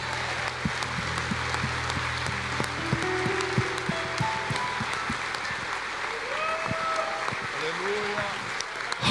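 A church congregation claps during prayer, with sharp, irregular individual claps over a continuous crowd wash, and voices and tonal sounds mixed in underneath.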